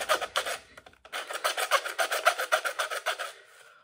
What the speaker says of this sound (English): The one problem with using a handsaw is you'll get a little bit stuck